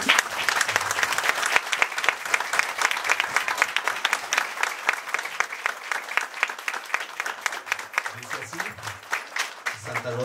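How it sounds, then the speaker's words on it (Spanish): Crowd at a plaque unveiling for a health clinic in Santa Rosa de Oreamuno, Costa Rica, claps in a fairly sparse, distinct rhythm, with a few voices murmuring underneath. "Y un fuerte aplauso, por favor."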